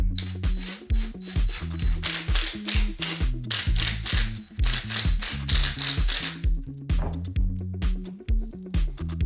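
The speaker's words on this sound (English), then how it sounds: "Now I'm using a couple of Tapcon screws to put it in the concrete." Bursts of rattling, buzzing power-driver noise as Tapcon screws go into concrete come and go over several seconds, with a beat-heavy music track playing beneath.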